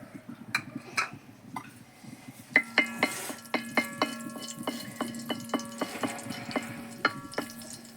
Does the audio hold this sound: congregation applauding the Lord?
no